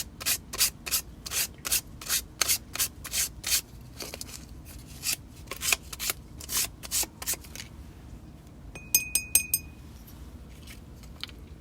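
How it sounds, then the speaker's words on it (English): Sandpaper rubs rhythmically along a coated fishing rod in quick, evenly spaced strokes, close and crisp, the pace loosening midway before a few lighter scrapes and small clinks. "we're going to sand this one, and we're going to put another coat on"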